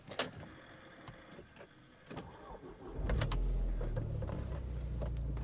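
A 2004 Audi A4 Avant engine catches and settles into a steady, smooth idle, a low continuous rumble that rises after a brief cranking and holds close and even through the rest.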